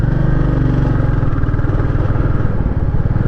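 A motorcycle engine drones loud and close, a steady mid-pitched hum with a light rattling texture, as the bike is ridden along a scenic road.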